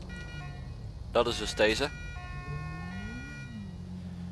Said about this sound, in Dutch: de sirene die jullie hoorden, dat is een andere sirene als ik normaal met de motor gebruik